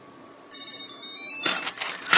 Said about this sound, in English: you can actually change the ringtones